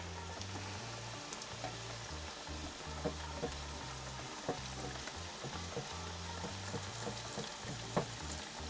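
A burrito fries in hot oil with a steady, close sizzle and dense crackling pops throughout, and no voices.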